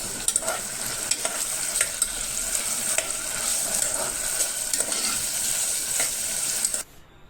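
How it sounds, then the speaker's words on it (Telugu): Chopped tomato stirred into ridge gourd and chana dal frying in a pan, a loud continuous sizzle with regular scraping stir strokes, cutting off abruptly near the end. "మళ్ళీ మనం ముందుగా కట్ చేసి పెట్టుకున్న ఒక టమోటా ఇందులోకి యాడ్ చేసుకొని బాగా మిక్స్ చేస్తూ ఉండాలి."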